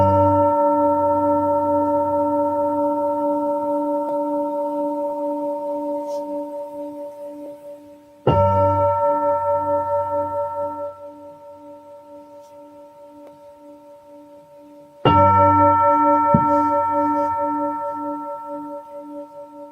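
A meditation gong struck three times during a chanting session, each stroke a bright attack followed by a long, steady, humming decay that rings on for several seconds before the next strike.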